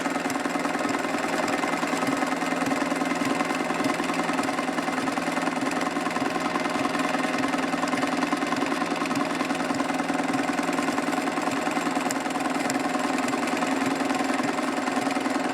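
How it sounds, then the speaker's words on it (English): A sewing machine runs flat out during machine appliqué, stitching along a fabric edge. It gives a steady, fast mechanical whir with a rapid, even needle pulse. The sound is close and continuous, with no talking. "So now I can just go flat to the floor as fast as the machine will go, and it will just feed its way around, appliquing down that edge."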